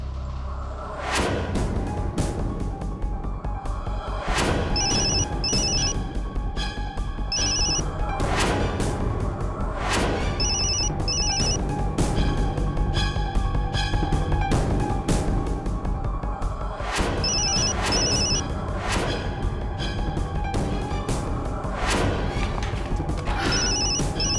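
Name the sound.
telephone ringing unanswered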